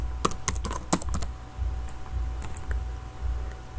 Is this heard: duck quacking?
no